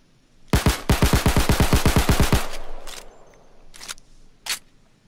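An FN Five-seveN pistol in Payday 2 fires in a rapid burst of about fifteen loud, evenly spaced shots. A few separate single shots follow after a short pause.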